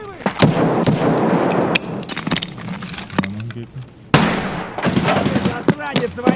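Gunfire in the video game Escape from Tarkov, sharp loud shots and short bursts in bunches across the clip, with a voice talking over parts of it.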